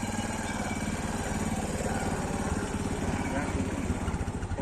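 A carburetted engine burns petrol made from plastic waste, fed straight into the carburettor, running at a steady, loud idle with even rhythmic pulsing that fills the whole stretch.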